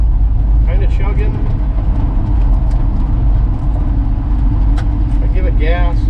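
A 1966 Ford F100 truck engine chugs unevenly, a loud, steady low rumble filling the whole stretch while a voice speaks over it at times.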